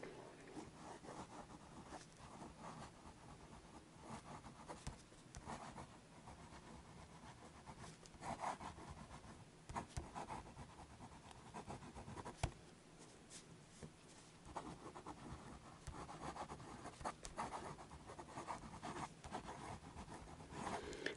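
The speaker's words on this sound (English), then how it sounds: "Just a lovely nib on this pen. It really writes well." A Noodler's Konrad fountain pen nib writes on paper, making faint, soft scratching strokes that continue throughout with small irregular pauses, close up and quiet.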